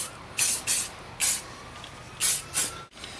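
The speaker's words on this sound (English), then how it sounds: "aerosol works just fine" An aerosol spray cleaner hisses onto an engine during detailing in five short, sharp bursts, two close together, one alone, then two more, with quiet pauses between and no voices.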